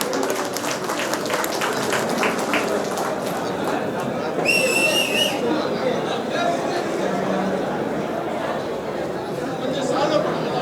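A crowd at a political gathering claps and cheers to welcome someone, with a brief sharp whistle midway, the applause steady and mixed with chatter throughout.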